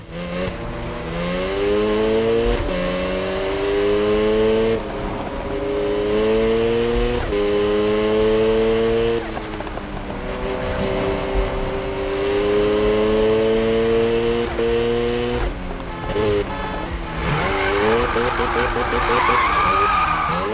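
Rocket Bunny Mazda RX-7 Spirit R drifting in the Need for Speed 2015 game: a rotary engine revs in repeated rising and falling pulls with tyre squeal, loud and close throughout, with a player talking over it.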